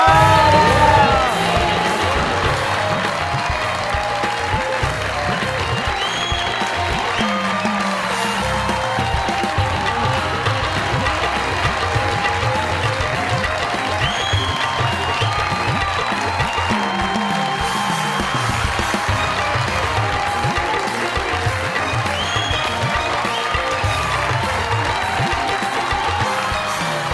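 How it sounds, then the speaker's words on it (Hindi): A comedy talk show studio audience welcomes a guest with sustained, loud applause mixed with cheers and whoops, a dense, unbroken crowd roar lasting the whole stretch. "आपकी बहुत सारी तालियों में"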